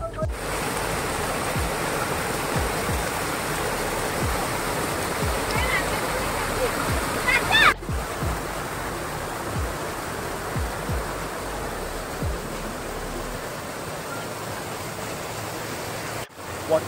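Waterfall at a picnic spot in Keonjhar, a steady broadband rush of falling water that fills the whole stretch evenly and loudly, with a few low thumps from wind or handling and no clear speech.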